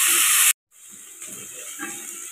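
Onions and greens such as keerai sautéing in a pan for keerai kootu, a steady bright hiss that breaks off briefly and then carries on as a softer, even sizzle.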